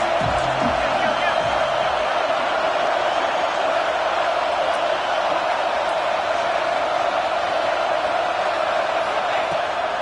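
A big stadium crowd in Happy Valley roars steadily on third down in a college football video game, a dense, sustained wash of noise under faint commentary.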